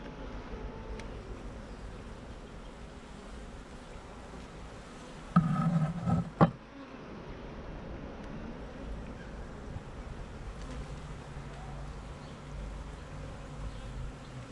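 Worker bees buzz around hive frames in a continuous low drone, close and steady, with a brief louder burst of handling noise midway.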